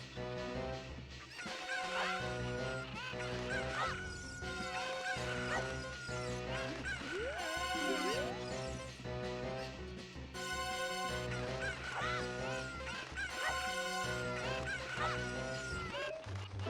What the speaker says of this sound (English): Very threatening chickens.